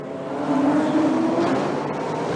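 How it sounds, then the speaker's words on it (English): GT3 and GT4 race cars passing on the Colombo street circuit at the 2011 Colombo Night Race, a loud sustained engine roar swelling and holding through the clip, with no talk heard. "as they pass through the Colombo streets right here at the Colombo Night Race 2011"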